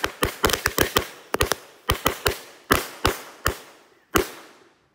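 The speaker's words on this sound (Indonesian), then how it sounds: "Mercon korek smoke SMS 3 tor kita nyalakan guys" Mercon korek smoke SMS firecrackers set off buried in the ground pop in a rapid series of about fifteen sharp, close cracks, bunched at first and then spacing out, with no voices.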